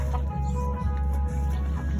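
Chickens clucking on an organic farm amid rice fields, several soft, short clucks repeating close by over a steady low background hum.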